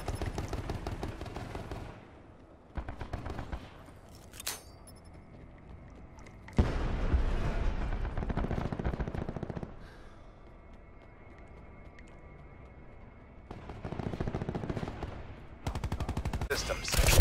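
Gunfire from new weapons in Call of Duty Black Ops 4 comes in repeated loud bursts of rapid automatic shots, separated by quieter pauses, with game sounds in the gaps.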